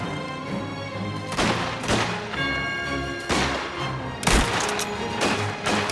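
Gunfire in the video game Mafia: The Old Country rings out as several loud, close shots and short bursts spread across a busy firefight, with a heavy boom near the end.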